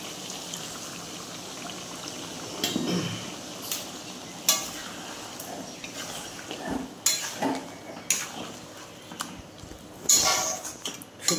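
Water poured over spices in a cooking pan, then stirred: soft pouring and sizzling, with intermittent scrapes and clinks of a utensil against the pan, all close by.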